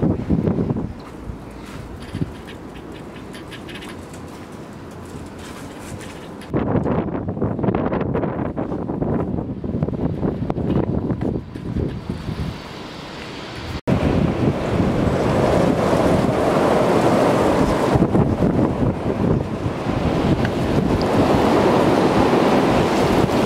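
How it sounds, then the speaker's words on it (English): Strong gusting wind near 35 miles per hour buffets an outdoor work area, a dense, roaring rush that swells and grows louder partway through, with heavy microphone buffeting and no talking. "the winds had cut this wrench session short because they hit like 35 miles per hour"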